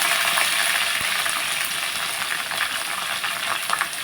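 Onions fry in a pan with green chillies and curry leaves, a close, even sizzle and hiss with a few small clinks, steady throughout and with no voices.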